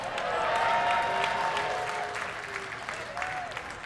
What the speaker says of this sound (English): It's a cheap way to get applause.